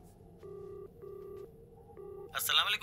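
Touch-tone telephone dialing: three separate steady dual-tone beeps, each roughly half a second long, play over a quiet background, and a brief burst of higher-pitched noise follows at the end.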